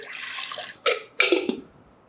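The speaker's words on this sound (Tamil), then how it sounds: "இந்த 100 கிராம் பாசிப்பருப்பு போட்டிருக்கேன் இல்லையா, ஒரு 200 ml தண்ணி ஊற்றுங்க" Water poured from a vessel onto 100 g of moong dal while making Kumbakonam kadappa, giving a steady close trickle that breaks into two short, louder splashing pours before trailing off.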